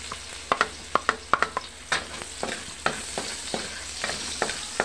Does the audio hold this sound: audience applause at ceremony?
no